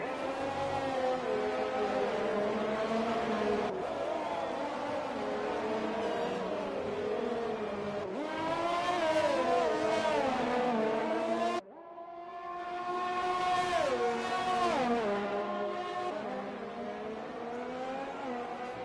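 F3 race cars at a Grand Prix in Vietnam, engines screaming loud and close in a steady high-pitched drone, rising and falling through gear changes, with a brief dropout before another car howls past.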